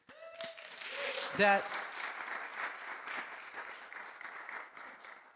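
Audience applause at a church service fills the room, a steady wash of clapping that swells briefly and carries on under a speaking voice.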